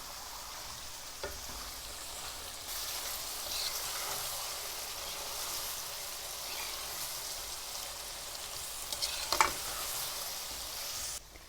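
Boiled mixed vegetables roast in a pan with a soft, even hiss of frying, joined by occasional light spoon scrapes and a brief cluster of clatter near the end, close but fairly quiet.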